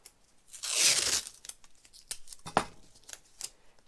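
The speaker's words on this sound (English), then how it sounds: "putting a strip of masking tape there" A strip of masking tape being torn from the roll while building a paper mache pumpkin reaper armature: a long ripping pull followed by short crinkly tears and handling clicks, close and alone.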